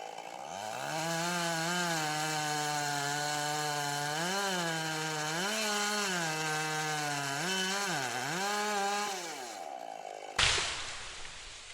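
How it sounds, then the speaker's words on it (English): Chainsaw cutting into a tree during felling runs loud and close, its engine note holding steady then dipping and surging several times under load before cutting off abruptly near the end. "Speedy Lumberjacks showcase incredible chainsaw skills."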